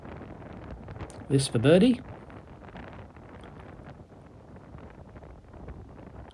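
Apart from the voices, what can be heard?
strong wind on a golf course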